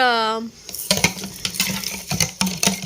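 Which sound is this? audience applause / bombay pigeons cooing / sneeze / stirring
stirring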